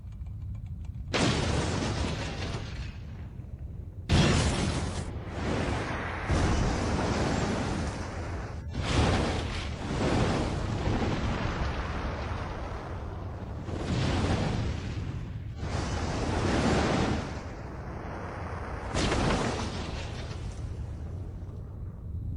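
Atomic bomb test explosions from archival weapons test footage, a series of loud, roaring blasts and long rumbling booms that swell and cut off abruptly between shots, with no one speaking.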